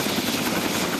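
A retiring UH-1H military helicopter at a ceremony, its rotor chop and turbine roar loud and steady throughout, close and dominant with no talk.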